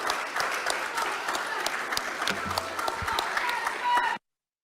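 Judges applaud after a statement by Prabowo, a sustained, dense round of clapping from a group that holds steady for about four seconds and then cuts off abruptly.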